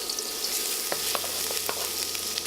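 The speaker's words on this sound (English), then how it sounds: "I'm going to take a heaping tablespoon of this bacon fat, and I'm going to use that to saute our aromatics" Garlic sautéing in a heaping tablespoon of bacon fat for venison chili, a dense close sizzle with a few sharp crackles and stirring clicks, no talking.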